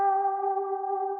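A final guitar part in a beat rings out as one steady, sustained tone with echo, moderately quiet and alone for just over a second.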